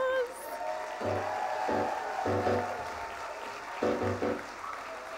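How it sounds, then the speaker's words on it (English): Audience applause at a convention opening ceremony, a sustained patter of clapping from a crowd that swells and fades over several seconds, with a voice speaking over it. "let's give them one more round of applause"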